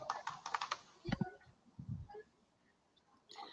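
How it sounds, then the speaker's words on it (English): Someone types on a computer keyboard in a quiet room, giving a short quick run of soft clicks followed by a few scattered, fainter taps, with no speech. "So like I'm just gonna start typing"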